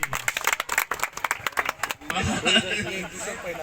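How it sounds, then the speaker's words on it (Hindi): Scattered hand claps from an audience at a Valmiki Jayanti gathering in a park, brief and uneven for about two seconds, then giving way to a murmur of crowd voices and talk. "इनके लिए मैं फिर से चाहूंगा जोरदार तालियां बजा दिया जाए।"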